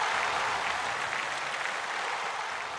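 Steady, even applause from a concert audience fills the space for a few seconds, a dense wash of hand claps with no voices over it.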